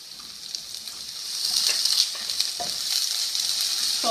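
Onions with freshly added ginger garlic paste frying in a little cooking oil, a steady hiss that swells louder midway and carries on with faint scraping, no voices.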